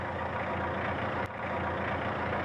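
Newly finished Barreiros tractors rolling past inside the factory, a steady, moderately loud engine drone with a brief dip partway through and no voices.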